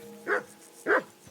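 Dog barking in the medieval game Kingdom Come: Deliverance 2, with three evenly spaced barks of moderate loudness over a faint tonal background.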